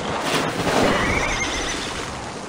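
A horse neighs in the video game Assassin's Creed Valhalla, a loud whinny rising over a constant wash of ambient wind or water noise.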